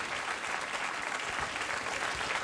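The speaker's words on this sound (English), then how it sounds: "I saw me get a round of applause for badly blowing something" A late-night talk show studio audience gives a steady round of applause, dense continuous clapping at moderate level lasting a couple of seconds with no talk over it.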